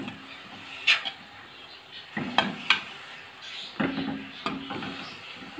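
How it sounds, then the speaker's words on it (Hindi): A pan of chickpeas with a tablespoon each of vinegar and soy sauce is gently stirred, giving a few scattered scrapes and soft clinks of a utensil against the pan over a quiet background. "चने हिला लेंगे हल्के हाथों से फिर से"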